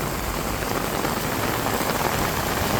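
Steady, dense heavy rain pattering on surfaces in Benidorm, a continuous hiss of drops with no breaks, fairly loud and close.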